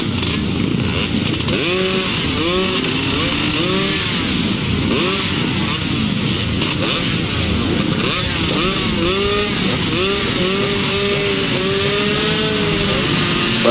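250cc solo grasstrack motorcycles race at a 2007 Ledbury meeting, their engines whining and revving hard in a continuous, loud, overlapping roar as several bikes rise and fall in pitch together.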